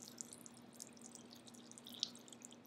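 Water poured through a sponge filter onto a desk, dripping as a mechanical filtration demonstration, with faint scattered drips and small splashes over a quiet, steady hum.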